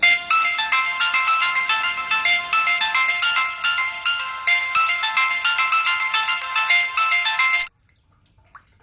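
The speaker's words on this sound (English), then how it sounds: "I've been ringing the bell so many times." A doorbell rings at a house door, repeating as a steady electronic chime pattern for several seconds, loud and close, then stopping abruptly with near silence after.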